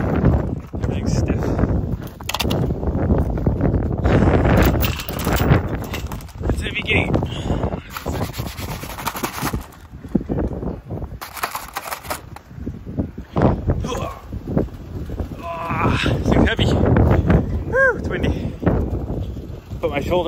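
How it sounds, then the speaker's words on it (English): Strong winter wind buffets and roars across the microphone throughout, outdoors in freezing, snowy conditions, with a voice talking intermittently underneath the gusts. "It's brutal out here. It's windy."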